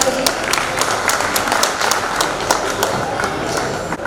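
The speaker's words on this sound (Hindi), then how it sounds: "जोरदार तालियों से स्वागत करें।" Attendees at the annual general meeting of a thrift and credit cooperative society in Bhopal clap as honorees are welcomed, producing loud, sustained applause with distinct sharp individual claps standing out from the crowd.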